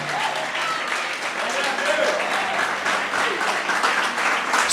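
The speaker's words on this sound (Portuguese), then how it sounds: "Aplauda o Senhor." Steady, dense applause from a large church congregation during a service, sustained without a break, with a faint voice rising through it.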